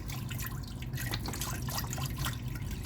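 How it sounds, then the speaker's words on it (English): Vegetable broth pours into a soup pot as a continuous liquid trickle and splash, moderately quiet and steady for about three seconds, with no talking. "So I'm going to go in with that vegetable broth."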